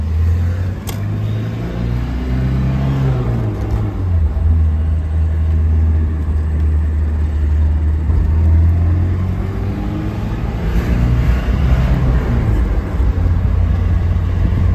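A 1991 Alfa Romeo Spider Veloce, not yet fully warmed up, drives with a steady loud engine drone that dips and climbs as gears change, several clear shifts and revving pulls heard from inside, with no talking.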